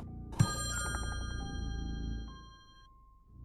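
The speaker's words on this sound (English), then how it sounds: "Ring phone." A phone rings in the horror puzzle game Friday the 13th: Killer Puzzle. A sharp, bright electronic ring starts suddenly and is layered with sustained chime tones. The ring fades over a few seconds, and the game's low music continues underneath.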